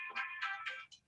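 A mobile phone ringtone goes off during an adult Sunday school class, playing four quick bright musical bursts in a rising, bouncy pattern. It sounds faint and slightly distant, with no voices over it.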